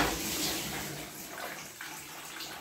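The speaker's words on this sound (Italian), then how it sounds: "La pompa è partita, adesso sta facendo il suo lavaggio." Indesit dishwasher pump running during a wash cycle, a steady broadband watery rush and hiss with no voices, fairly soft and continuous throughout.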